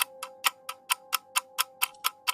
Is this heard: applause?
no